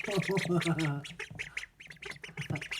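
Ducks quack repeatedly in quick, raspy bursts close by, several calls overlapping in an uneven chatter.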